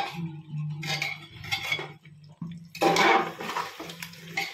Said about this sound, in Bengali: এবার অ্যাড করছে ভাজা আলুগুলো।